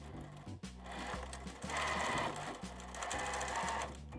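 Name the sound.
sewing machine sewing vinyl pencil case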